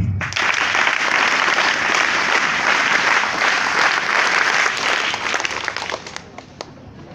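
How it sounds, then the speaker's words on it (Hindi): Students at a Children's Day event at an inter college in Ghazipur, Uttar Pradesh give a scout clap, a dense, loud, sustained burst of crowd clapping that tapers off and thins into a few scattered claps at the end. "स्काउट ताली।"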